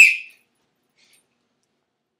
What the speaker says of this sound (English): The babe whistle attracts babes of all ages.